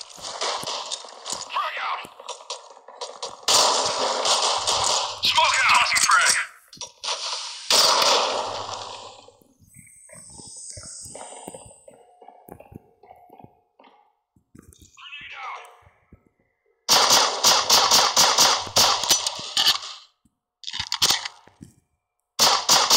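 Video game gunfire and a bomb blast, with pistol shots and a thrown grenade, come as loud broadband bursts of crackling shots and booms in several clusters, separated by quieter stretches.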